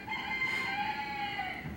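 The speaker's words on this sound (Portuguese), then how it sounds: "Olha o galo cantando." A rooster crows from a distance near a lumberyard in a quiet residential street, one long, drawn-out call that sounds faint and far off.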